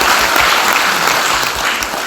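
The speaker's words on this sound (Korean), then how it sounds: "우리 박수 한번 쳐주실까요?" Members of a Korean agricultural cooperative at a training session clap loudly and steadily together, a close, continuous burst of applause with no talking.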